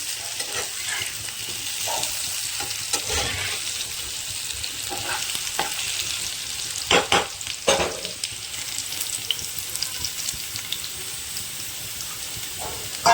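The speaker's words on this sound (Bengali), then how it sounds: "আলুটা ব্রাউন করে এরকম ভাজা হয়ে গিয়েছে।" Potato pieces frying until browned in a pan, a soft continuous sizzle with occasional stirring clatter and a few sharper knocks of a spatula, fairly quiet and steady throughout.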